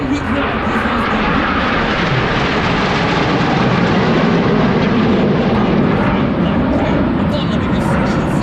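Aerobatic team aircraft flying at an August airshow in Orange County, New York: a loud, steady engine roar and rushing drone filling the whole span, with a voice speaking over it.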